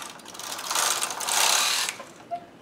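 A Studio 150 Chunky knitting machine knitting a row with yarn fed by hand, giving a single rising mechanical whirr and rattle of the carriage crossing the hooks, about a second long, close and clear.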